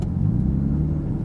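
An RB25-swapped Nissan 200SX engine rumbles and revs, a loud, close, steady low growl that holds throughout the short moment without talk.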